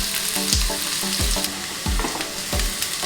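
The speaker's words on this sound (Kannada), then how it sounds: "ಈರುಳ್ಳಿ ಬೆಳ್ಳುಳ್ಳಿ ಹುರಿದಾಗಿದೆ," Chopped onions and a little peeled garlic frying in oil for a ridge gourd and brinjal palya, a steady sizzle punctuated by about five regular scrapes of a spatula stirring the pan.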